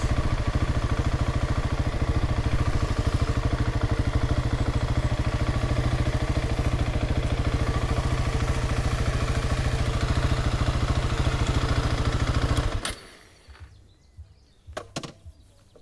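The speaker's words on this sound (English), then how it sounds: "That's quad bikes." Quad bike engines running outdoors: a loud, steady buzzing engine drone that holds for about twelve seconds, then cuts off abruptly, leaving a few faint clunks.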